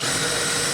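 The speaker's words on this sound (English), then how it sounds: "as you saw, I drilled the holes in" A power drill bores holes in plywood while a modular utility core is built for a Sprinter van, a short loud continuous whir with a steady buzzing grind and no pauses.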